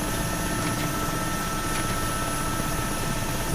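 Mi-8 helicopter lifting off directly from a standstill without hovering in the DCS flight simulator, a steady, loud engine and rotor drone with a dense broadband roar that holds unchanged throughout, no speech.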